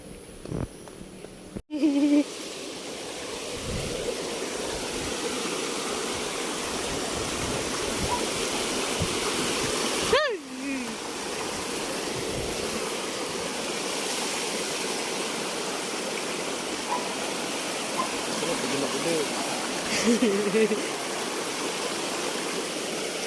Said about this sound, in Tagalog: Maulan dito.